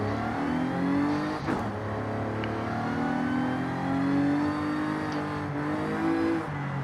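A car engine in the racing game Forza Horizon 5 holds a steady drone, rising and dipping in pitch through gear changes, loud and continuous, with a brief whoosh near the start, no talking.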